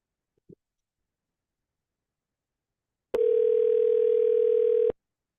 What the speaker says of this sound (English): Let me know if you guys can hear the phone ringing.